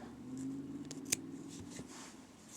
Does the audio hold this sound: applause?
no